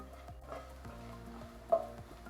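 Kashmiri chilli powder being stirred in a pan for a coconut-free chutney, soft and faint scraping with a brief clink partway through, with no talking.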